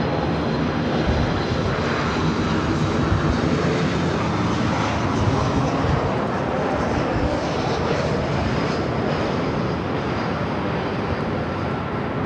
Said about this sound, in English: The flight to Kahului now rolling down the 24 left.